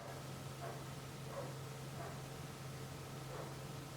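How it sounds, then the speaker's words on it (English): A dog barks in the distance, about four faint, evenly spaced barks over a quiet background hiss. "There's a dog barking."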